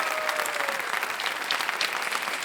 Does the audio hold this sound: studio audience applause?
yes